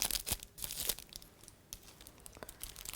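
Cellophane wrap crinkles and crackles up close in short bursts as it is handled for a no-bake Valentine's candy bouquet, fairly quiet with brief pauses and no talk.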